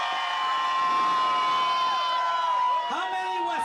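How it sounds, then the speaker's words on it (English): A partying crowd on a lake boat cruise cheers and whoops, shouts and excited voices rising near the end, with steady music tones running underneath throughout. "Give him a big round of applause"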